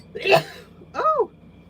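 A single sharp sneeze bursts out close by, followed a moment later by a short vocal exclamation.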